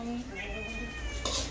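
A cat gives a drawn-out, wavering meow close by over a constant background hiss, followed by a brief clatter at the end.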